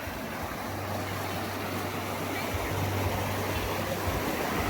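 Water pours steadily at Huay Chan waterfall, a continuous broadband rush with no breaks, close and fairly loud, with no voices over it.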